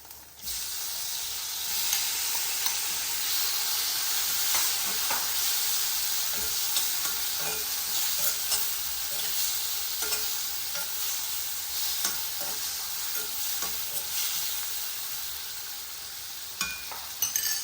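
Pineapple sizzling steadily in a hot pan for a curry, a continuous loud frying hiss with occasional stirring scrapes throughout, no voices.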